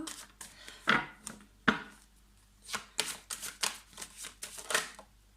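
Tarot cards are handled at close range in a quiet room: soft irregular riffles, slaps and taps of cards being shuffled and laid down, in scattered clusters with brief pauses, no talking.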